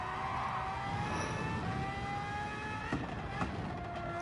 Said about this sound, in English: And the downshifts are so aggressive.